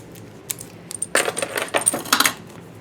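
Small metal shims for a BetterPress letterpress system clink and tinkle against each other in a quick series of bright, close metallic taps, sparse at first then denser, with no talking.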